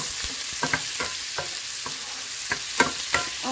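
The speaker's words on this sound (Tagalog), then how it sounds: "And so, pinanagigisan ako ng bawang sibuyas." Garlic and onion sautéing in a pan for beef caldereta, with an even frying hiss and a series of close spoon scrapes and taps as it is stirred.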